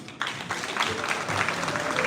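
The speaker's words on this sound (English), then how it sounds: "give him a better round of applause than that" Audience at a PNP political rally at Manchester High School clapping, a dense steady round of applause that starts abruptly after a brief quieter moment and continues at moderate loudness.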